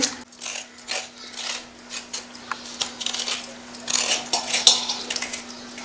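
A spoon scrapes the seeds out of a raw cucumber in a string of close, irregular scratchy clicks and rasps over a steady low electrical hum.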